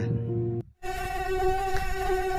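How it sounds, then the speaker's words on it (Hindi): A cartoon mosquito buzzes loud and close in a steady high drone, broken by a brief silent gap before the whine resumes, in a Hindi animated moral story about a lion resting in the shade. "तभी अचानक वहाँ पर एक मच्छर आ जाता है"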